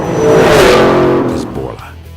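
A 2011–2014 Ford Mustang GT with a Borla exhaust revs hard, its engine swelling to a loud roar and then easing back down as the throttle is released.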